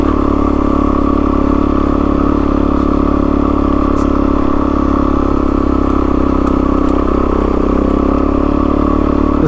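A motorcycle grinds steadily uphill in first gear on a Middlemarch east-to-west ride, a loud, close, continuous engine drone with rough rumble and wind buffeting throughout, no talk.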